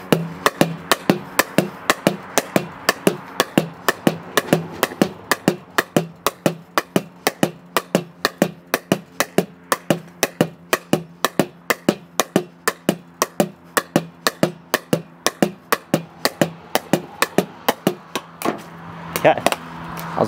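A pickleball paddle strikes a ball against a wall at home in a forehand-backhand alternation drill, producing a fast steady series of sharp hollow pops close by, evenly spaced for about twenty seconds before a brief stop.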